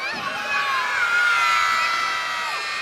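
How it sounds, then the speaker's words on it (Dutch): A crowd of children shouts together for Sinterklaas, a loud sustained chorus of high voices swelling and then easing off over a few seconds. "Roep nog even, Sinterklaas"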